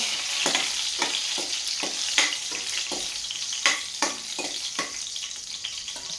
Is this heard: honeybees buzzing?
no